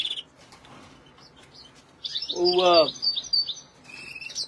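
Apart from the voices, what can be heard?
hybrid goldfinch and canary birds chirping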